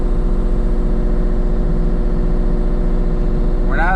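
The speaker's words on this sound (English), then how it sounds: "I thought the excavator might end up being better" A mini excavator engine drones steadily and loudly up close, a constant mechanical rumble with a buzzy pulse while dragging a shed, with a brief whining rise at the very end.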